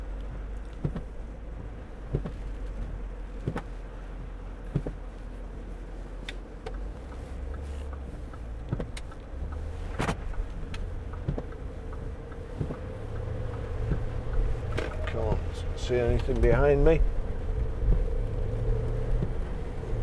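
A 2011 Range Rover Vogue SE with a 4.4 TDV8 diesel drives along, its low engine and road rumble steady inside the cabin. Small ticks come through, the drone swells toward the end, and a person speaks briefly.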